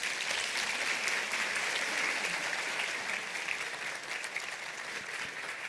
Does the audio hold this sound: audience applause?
yes